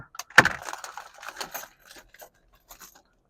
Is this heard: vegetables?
no